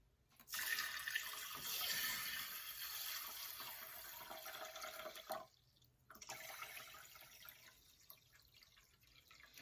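Cold running water pours steadily into a bowl of mung beans for soaking, with a bright splashing rush, pauses briefly, then resumes more softly. No one speaks.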